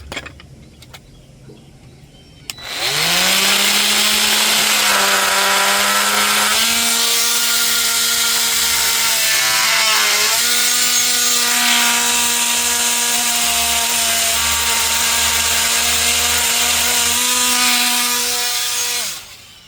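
A power tool cuts into a plastic pipe fitting during a saltwater pool sanitizer install, starting with a sharp whine that rises in pitch and holds as a loud, continuous grinding tone before cutting off near the end.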